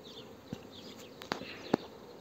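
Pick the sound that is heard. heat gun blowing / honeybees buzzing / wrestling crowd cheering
honeybees buzzing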